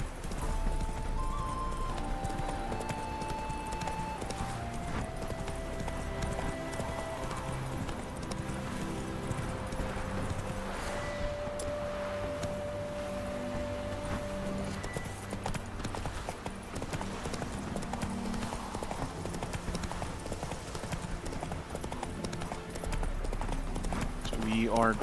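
Roach, Geralt's horse in The Witcher 3: Wild Hunt, gallops steadily with rapid rhythmic hoofbeats throughout, set under game music and a talking voice.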